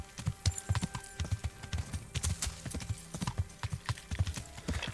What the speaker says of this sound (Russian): Новый конь у меня побыстрее теперь.